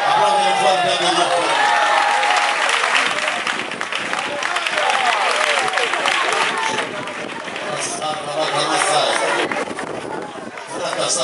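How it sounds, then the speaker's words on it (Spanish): A church congregation at an evangelical mission service in Perpignan claps loudly in sustained applause, with many voices calling out over the clapping; it dips briefly, then swells again. "Aplaude fuerte a Dios."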